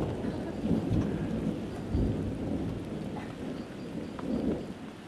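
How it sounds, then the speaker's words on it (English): A thunderstorm with heavy rain hissing steadily on surfaces, and several low thunder rumbles rolling through. No voices. "And then we got a thunderstorm."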